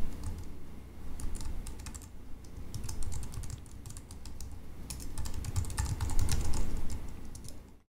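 Rapid, uneven typing on a computer keyboard as a name and email address are entered, close and steady throughout with no talking, stopping just before the end.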